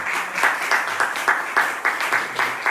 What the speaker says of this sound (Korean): 우리 감사의 박수 전해 주시면 좋겠습니다.